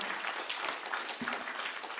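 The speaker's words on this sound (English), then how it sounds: "Round of applause." A round-table audience of university vice chancellors discussing national education policy gives a brief round of steady, close clapping that holds evenly for a couple of seconds.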